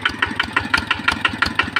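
Kubota RT110 single-cylinder diesel fitted with a standard injector nozzle, labouring while driving a water pump through a belt: a close, loud, heavy chugging beat with regular panting pulses, about six per second, and no talk.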